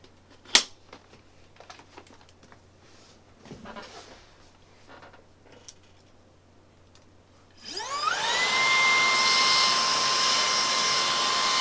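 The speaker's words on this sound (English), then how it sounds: "Let's vacuum that off." A vacuum cleaner starts up partway through and runs with a loud steady whine, cleaning debris off 3D printer gears after a stretch of quiet handling and tapping noises.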